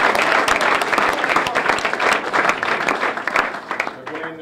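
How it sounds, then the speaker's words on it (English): A school audience at a Bishop Grimes signing ceremony applauds a student athlete, a dense, loud round of clapping that holds steady for several seconds before starting to thin out. "So let's give Sophia a round of applause."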